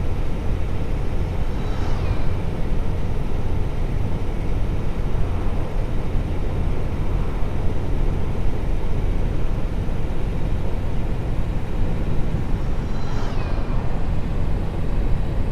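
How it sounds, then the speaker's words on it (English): Traffic in the American Truck Simulator video game roars as a steady loud road drone, with a couple of vehicles sweeping past near the start and again near the end, and no talking. "Even just listening to the sounds of the game, like the cars passing by, like this truck, it's really cool."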